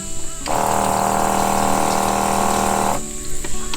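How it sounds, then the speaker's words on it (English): A small electric water pump for a teardrop camper's sink kicks on and runs with a steady droning hum for about two and a half seconds, then shuts off. "here's the water pump sound."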